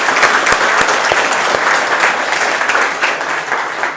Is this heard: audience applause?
yes